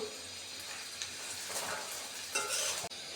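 Onions frying in oil with cardamom, cinnamon, bay leaves and cloves, a steady close sizzle with occasional stirring scrapes and a brief clatter near the end.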